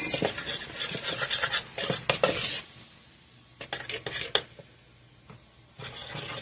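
A spoon stirs an egg and milk mixture for apple fritter batter, giving bursts of scraping and clinking against the bowl that break off in short pauses, then resume. Close and fairly loud.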